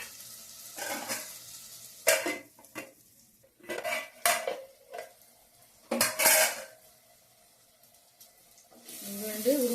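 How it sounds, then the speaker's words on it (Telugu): Drumstick pieces, dried fish and tomato frying in oil in a pan, stirred with a metal spoon: intermittent clanks and scrapes of utensil on cookware over a faint sizzle, with brief quiet gaps between bursts. "ఈ విధంగా ఇవన్నీ కలిపి ఒక 5 నిమిషాలు అయితే ఇలా నూనెలో వేయిస్తానండి"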